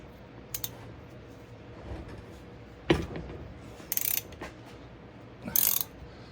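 A bearing puller assembly is worked on the kingpin of a CASE IH 275 compact tractor, giving a few sharp metallic clicks and ratcheting bursts spaced over several seconds, close and fairly quiet with no talk.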